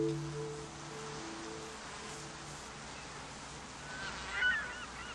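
Migratory birds call out at an alkaline lake, faint honking cries rising over a steady wash of wind or water noise, loudest near the end.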